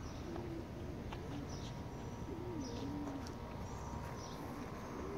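Soft pigeon cooing repeats in low, gentle bursts over a steady outdoor hiss, faint and somewhat distant.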